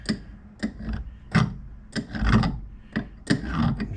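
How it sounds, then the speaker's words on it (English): Hand file rasping across a metal burr on a 2006 Polaris Ranger 700XP power steering part, several separate close strokes with short pauses between them and no talk. "Just filing across it like I showed in the video prior to."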